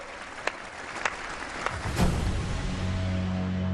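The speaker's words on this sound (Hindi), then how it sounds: "आइए कुछ पल तालियां बजा करके उनका सम्मान करें।" Crowd applause honouring athletes at an Independence Day ceremony at the Red Fort, starting with a few scattered claps and swelling into a steady, moderately distant ovation.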